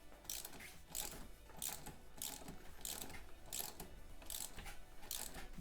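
Crank arm bolt on a Specialized Levo e-bike being tightened with a ratchet, giving faint, rhythmic clicking bursts roughly every half second, evenly repeated throughout without speech.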